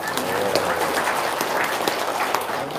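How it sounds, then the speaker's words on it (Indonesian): An audience claps in a dense, continuous burst, steady and fairly loud from start to finish with no voices standing out. "tepuk tangan dong"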